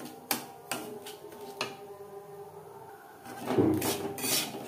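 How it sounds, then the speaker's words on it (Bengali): Semolina lightly dry-roasting in a pan with a pinch of salt, quiet scraping and a few sharp taps of a spatula against the pan, close and faint with no talking. "হালকা করে ভেজে নেব"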